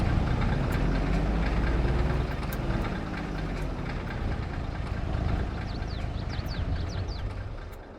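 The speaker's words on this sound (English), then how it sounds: "Engine off for now." A farm vehicle engine idles in the Farming Simulator game, a steady, low, knocking rumble held for several seconds at a fairly loud, close level with no voices.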